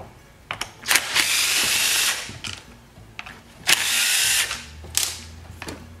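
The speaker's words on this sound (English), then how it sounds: "Start removing all the screws" Screws being removed from a garbage-picked Stihl chainsaw with a T27 Torx driver: two sustained bursts of whirring driving, set between sharp clicks and clatter of parts, close and loud.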